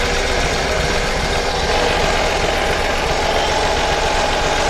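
A damaged car engine idles rough and misfires, giving a loud, continuous uneven rumble with a knocking vibration and no speech over it.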